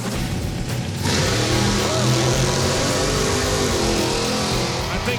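A drag racing car's engine roars loudly, building to a sustained harsh revving blast after a brief quieter start, with a voice faintly under the noise.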